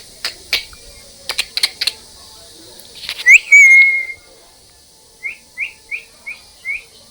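A small bird chirps nearby: a few clicks and taps first, then a bright whistled call, followed by a quick run of short rising chirps.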